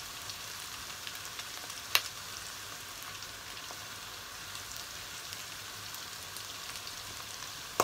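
Curry powder sizzling and frying in a pot for curried chicken, a continuous crackling hiss with faint pops and a couple of sharp clinks, steady and close with no talking.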